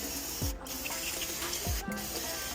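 An aerosol spray can hissing onto engine parts during a 2007-2012 Nissan Altima 2.5 valve cover replacement, two short bursts about a second apart, close and fairly loud.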